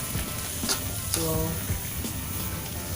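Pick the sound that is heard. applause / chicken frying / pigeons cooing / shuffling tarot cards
chicken frying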